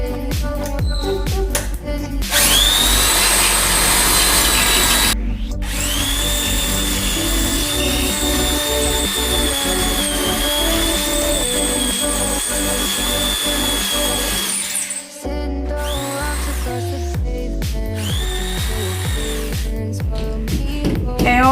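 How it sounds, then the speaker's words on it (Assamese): A power drill bores into a wall to mount two frames in a home. It gives loud, sustained whining runs with short pauses between bursts and shifting pitch, then quicker stop-start drilling near the end. "ড্ৰিল কৰি আছে এতিয়া"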